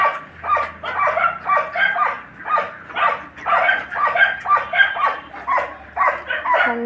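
Several dogs bark in quick repeated bursts near a poultry shed holding hundreds of chickens, with yips and whimpers mixed into the steady barking.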